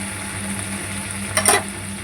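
Pointed gourd peels frying in a pan with turmeric give a steady, low sizzle with a steady hum beneath, and a brief scrape of a utensil against the pan partway through.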